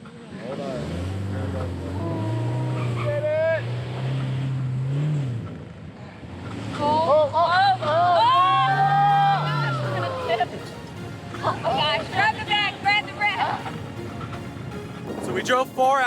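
A truck rumbles and jolts along a rough jungle road, its low engine drone steady underneath loud, excited voices that talk and exclaim for most of the stretch.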